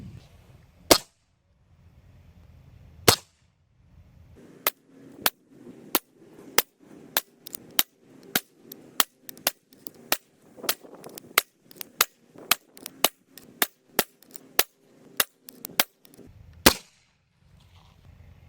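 Repeated sharp shots from a Diana Storm Rider PCP air rifle firing 7.4-grain pellets, a steady string of about twenty loud cracks spaced roughly half a second to a second apart, each with a brief metallic ring, no talking.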